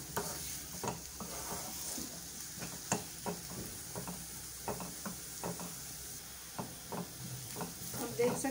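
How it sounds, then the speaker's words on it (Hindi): Onions being stir-fried in a pan sizzle softly while a spatula scrapes and knocks in a steady, repeated rhythm, close and moderately quiet. "इसे हम अच्छे से भून लेते हैं, लाइट पिंक होने तक हमें इसे भूनना है।"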